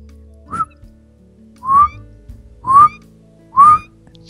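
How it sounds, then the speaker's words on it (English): Four short high-pitched whistled notes from a person, each rising slightly, spaced about a second apart, clear and close with quiet gaps between. "I can hear it through some mic when I whistle it"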